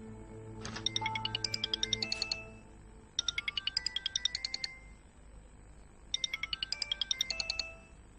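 A mobile phone ringtone plays in three bursts of rapid, bright chiming notes separated by short pauses, fairly clear and close in a quiet room.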